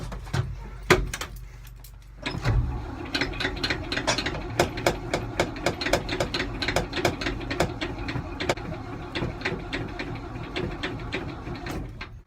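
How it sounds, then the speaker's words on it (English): Makeshift electric fuel pump ticking rapidly and rhythmically while a truck is being started, a steady stream of sharp mechanical clicks close by, following a couple of louder knocks at the start. "Sometimes it takes a while to get the fuel pumped up to the carburetor to get it started."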